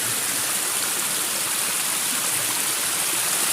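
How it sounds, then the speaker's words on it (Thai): Water pouring steadily over rocks at a small overflow weir in a natural forest setting, a continuous loud rushing wash with no pauses, close by and alone without voices. "เสียงน้ำไหลป่ะครับ น้ำมีแต่เย็นเย็นนะครับ"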